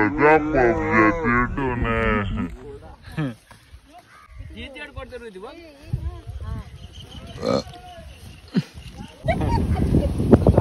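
A loud, drawn-out low from a bull opens the clip, followed by mixed voices and animal grunts, with a rough noisy burst at the end.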